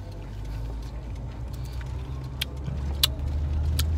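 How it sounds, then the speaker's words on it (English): A car drives along with a steady low engine and road rumble from inside the cabin, with a few light clicks and rattles over the top and no talking. "Driving."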